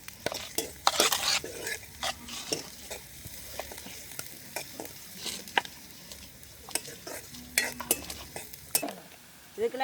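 Boiled potatoes being mashed in a pan with a utensil for oyster rotty filling, giving repeated close scraping, stirring and clanking strokes in an irregular rhythm, with no talking.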